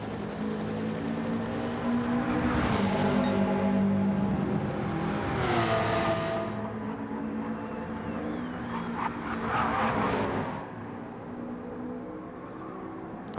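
Subaru race cars roar together in a Gran Turismo 7 DTM race, their engines droning and revving steadily and loudly, with surges as they pass close by.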